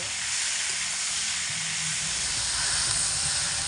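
Mango pickle cooking slowly over low heat with occasional stirring, a steady close hiss and sizzle that holds even throughout with a faint low rumble beneath.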